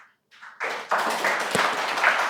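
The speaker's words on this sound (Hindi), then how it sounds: "शर्माना नहीं है ताली बजाने में।" An audience claps in a lecture hall during a spiritual talk, a short burst of applause that starts after a few faint taps and holds steady for about two seconds.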